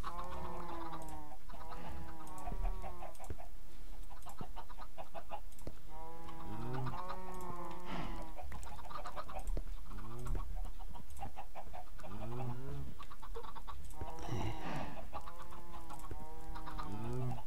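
Chickens clucking in Minecraft, a steady run of repeated clucks and short squawking calls, fairly close and continuous throughout, with no talk over them.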